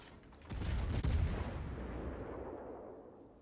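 Naval artillery in World of Warships from a cruiser, a heavy salvo booming with a sharp onset and then a long rumbling decay that fades over a few seconds.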